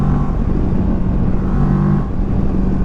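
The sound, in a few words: parallel twin motorcycle engine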